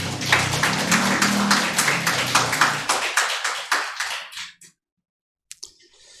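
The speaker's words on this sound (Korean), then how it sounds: "우리 하나님께 영광의 박수 올려드리겠습니다." A church congregation claps in praise after a choir's hymn at a Sunday service, with dense, steady applause for about four seconds. It then thins to scattered claps and fades to silence, with a couple of faint late taps.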